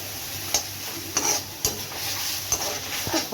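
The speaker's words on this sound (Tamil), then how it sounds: "பாவக்காவை நல்லா வதக்கிடுவோம் எண்ணெயிலேயே" Bitter gourd sautés in hot oil for thokku, a steady close sizzle broken by several sharp scrapes and stirs of the pan, with no talking.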